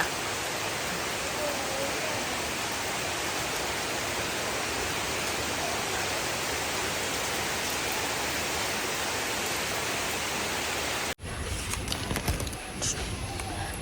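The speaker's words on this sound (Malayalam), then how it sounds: "നല്ല മഴ" Heavy rain pours down steadily and loudly for about eleven seconds, then cuts off into quieter room sound with faint handling noise.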